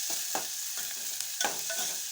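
Onion sizzles steadily in hot oil for a drumstick curry while a spoon stirs with several scraping strokes, a close and continuous frying hiss.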